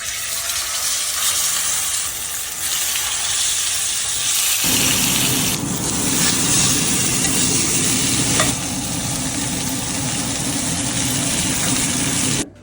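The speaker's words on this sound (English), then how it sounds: "Once we get a nice sear on the pork chop, we'll throw some fresh herbs into the pan" Pork chops sear in hot oil in a pan, a loud, steady broadband sizzle running throughout with a brief stir partway, no talking.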